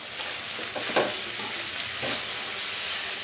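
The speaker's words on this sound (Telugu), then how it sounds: "ఇప్పుడు కలబెట్టుకున్నాము." Sambar masala with coconut and sambar powder sizzles in a pot while being stirred, a steady close frying hiss with a few louder scraping stirs.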